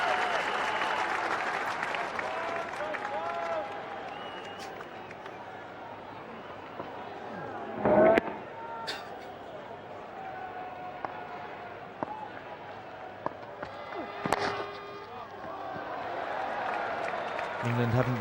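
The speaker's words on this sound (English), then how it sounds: "Encouragement from this big crowd for England." A big crowd at a 2001 England v Pakistan cricket match applauds and cheers for England, a sustained wash of clapping with a sharp burst midway, while a commentator talks over it.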